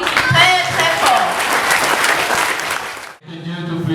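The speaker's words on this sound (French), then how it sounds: "On applaudit très très fort." Loud applause from a school Mass congregation thanking the primary pupils who sang, dense clapping that runs steadily for about three seconds, then cuts off before a single voice begins speaking.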